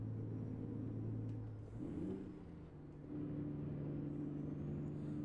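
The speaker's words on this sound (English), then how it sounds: "That wasn't too bad of a downshift there without the clutch." A truck engine in American Truck Simulator drones steadily, then dips and rises in pitch as it downshifts without the clutch before settling back into a low, even rumble.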